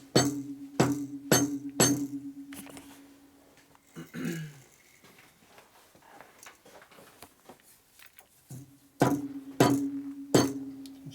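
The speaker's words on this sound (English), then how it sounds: "It's a big old hammer." Heavy hammer blows strike the parts of a 1989 FXR S&S 89ci Evo stroker motor during a failed rebuild, landing in quick clusters of sharp metallic clanks with a ringing tone, a pause with faint clatter, then another burst of hits.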